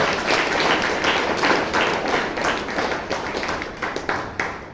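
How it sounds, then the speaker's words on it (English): Audience applause at a Toastmasters meeting in Bangalore, a dense, steady crowd clapping that holds at full strength throughout, close and continuous with no talk over it. "Please give Shashank a big round of applause."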